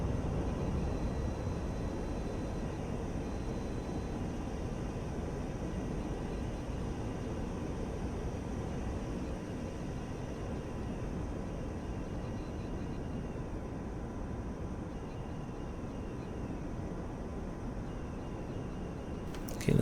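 An F-86F jet engine in the DCS flight simulator runs throttled back, giving a steady, continuous roaring rush with an even, unchanging hiss throughout and no talking.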